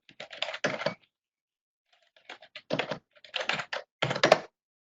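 Bursts of quick computer keyboard typing in Matlab, close and crisp, in several short clusters separated by brief pauses, with no talking.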